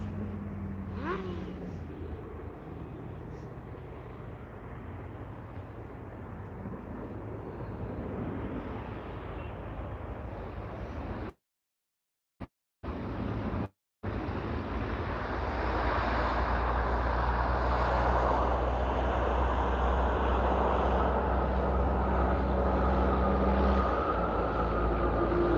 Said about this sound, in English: Air Canada Flight 345 coming in from Ottawa.